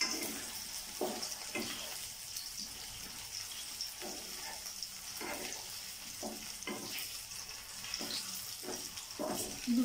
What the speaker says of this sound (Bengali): দু সাইড থেকে এটাকে ফ্রাই করে নিতে হবে এবং আঁচটা ভাজে ওইভাবে বাড়িয়ে রাখতে হবে।